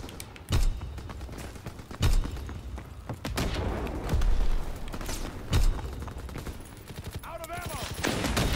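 Artillery guns firing in the Call of Duty WW2 D-Day assault multiplayer battle, with several loud booming blasts spread out over a constant din of gunfire and battle noise.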